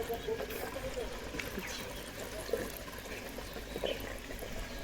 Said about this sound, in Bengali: তো এই যে দেখো জল নিয়ে নিচ্ছি, ভর্তি হয়ে যাওয়ার মতন হয়ে গেছে, বিশাল স্পিডে জল পড়ে।